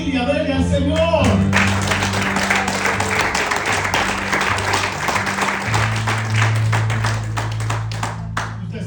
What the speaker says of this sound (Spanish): Un aplauso de vigilia, dele al Señor.